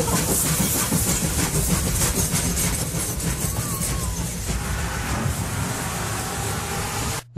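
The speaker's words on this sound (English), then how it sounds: "Jay the PBS Kids guy warns you, because there's a train coming." A train passing, a loud rushing rumble with rhythmic rail clatter and hiss that holds steady and then cuts off abruptly at the end.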